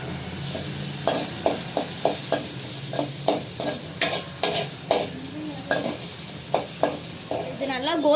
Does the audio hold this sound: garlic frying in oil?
yes